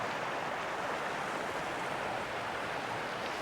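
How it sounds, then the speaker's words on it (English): Water rushing in a Colorado mountain creek at a campsite in May with snow still on the ground, a steady, even broadband hiss that stays constant throughout with no voices. "the sound of rushing water will be nice"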